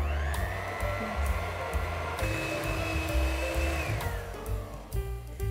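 An electric mixer beats cream cheese frosting with vanilla extract and double cream for chocolate Guinness cupcakes, a close, steady motor whine whose pitch shifts with speed, heard alone without talk.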